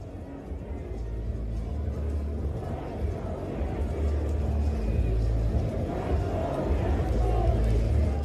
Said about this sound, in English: we're hearing some "Let's Go Yankees" chants